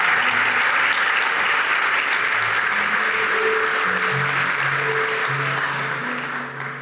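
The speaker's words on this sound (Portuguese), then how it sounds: "Não, aplaude direito." Sustained applause from a church audience fills the whole stretch, dense and steady, with faint musical or voice tones running beneath it and tapering slightly at the end.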